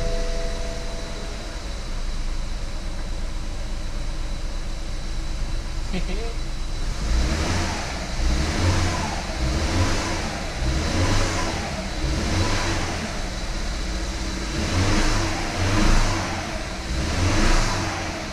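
A rebuilt BMW 320i turbo engine cranks and catches after several seconds of steady background hum, then settles into a close idle with a rhythmic pulsing beat and periodic swells of revving.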